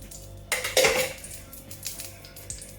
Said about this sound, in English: Now I'm going to remove this from the pan.